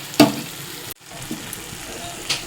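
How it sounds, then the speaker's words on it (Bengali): A paste of ground melon seeds, raisins and cashews sautés in oil with spices, giving a low sizzle with a clatter at the start, a brief sudden drop, then scattered stirring scrapes. "এই যে এটাকেও খুব ভালো মতো কষে নেব যতক্ষণ না তেল ছাড়ছে মশলা দিয়ে"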